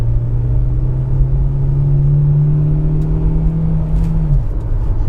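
A four-cylinder rear-wheel-drive Mercedes C230 pulls away under acceleration, its steady engine drone rising in pitch for about four seconds before easing off as the driver shifts, loud and close from inside the car.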